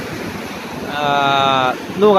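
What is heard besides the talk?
wind and waves over the Gulf of Thailand during storm Pabuk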